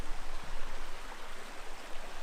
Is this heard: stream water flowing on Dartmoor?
yes